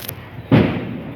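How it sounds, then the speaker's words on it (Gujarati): A single firecracker bursts outside during Diwali with a sharp, loud bang that rings out and fades over the following second. "છોકરાઓ બહાર ફટાકડા ફોડી રહ્યા છે"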